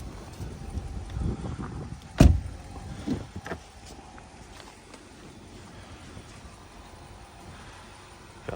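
A 2020 BMW M550i xDrive is unlocked with a short chirp and clunk, followed by a few soft clicks and thuds as the door is opened, close up and quiet with no talk.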